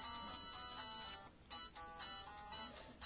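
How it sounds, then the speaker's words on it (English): A mobile phone rings with a repeating melodic ringtone, faint and slightly muffled, in pulsing bursts with a short pause midway. "that phone is really ringing"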